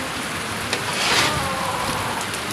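Heavy monsoon rain pours down outdoors, a dense steady hiss of falling water with faint spattering drops, rainwater running in near bird cages.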